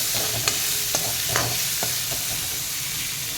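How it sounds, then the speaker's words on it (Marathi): Corn sautéing in a pan for green rice, with a steady soft sizzle and several light scrapes of stirring spaced through it, close and moderate in level, with no talking. "एखादा मिनिट आपण ते परतून घेऊयात"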